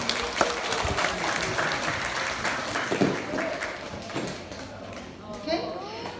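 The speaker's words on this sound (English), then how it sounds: "All right, Ellen, let's give him a clap." Audience at a farm show in a wildlife park in Western Australia clapping for a sheep shearer, sustained applause from a nearby crowd lasting several seconds and slowly tapering off.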